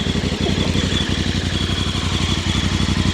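A Voge DS 625X motorcycle engine runs close by and steady, with a fast, even offbeat pulse that rises gently as it's revved, no voices over it.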